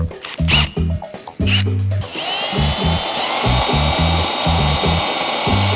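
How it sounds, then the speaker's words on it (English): A power drill whirs in short bursts, then settles into a long steady grinding whine as it drills out a metal car panel, loud and close. "I thought it'd be a good idea to start drilling out that panel"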